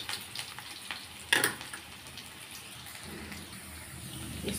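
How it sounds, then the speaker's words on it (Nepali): Saag greens fry in a pan with chilli, garlic, ginger and onion, giving a steady soft sizzling hiss throughout, with one brief sharper crackle near the start. "मैले चाहिँ यहाँनिर साग भुट्नु लागेको छु"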